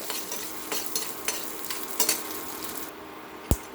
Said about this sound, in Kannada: ಇದಕ್ಕೆ ನಾನು ನಾಲ್ಕು ಮೆಣಸಿನ್ಕಾಯಿ ಹಾಕ್ತೀನಿ ಒಂಚೂರು ಖಾರ ಇರಲಿ ಅಂತ ಗುಂಟೂರೆ ಹಾಕ್ತಾ ಇದ್ದೀನಿ ಚೆನ್ನಾಗಿ ಹುರ್ಕೋಬೇಕು